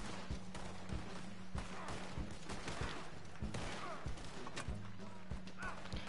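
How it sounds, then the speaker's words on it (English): Cannons boom in Red Dead, a rapid series of heavy blasts and thuds over a droning low hum, with gunfire mixed in and a voice talking over the action. "I'm getting on the cannons."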